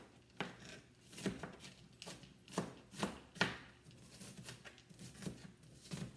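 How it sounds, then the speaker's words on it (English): Knife chopping an onion on a cutting board in a home kitchen, with a steady run of sharp, close chops at an uneven rhythm and no talking. "So I'm chopping the onion."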